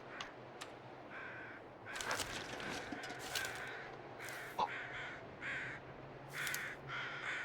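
Crows cawing in the survival game The Long Dark, a series of sharp harsh caws, some single and some in quick pairs, ringing out over a steady wind-like background.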